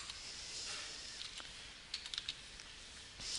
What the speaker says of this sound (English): Inside the inverted comma I'll just type in physics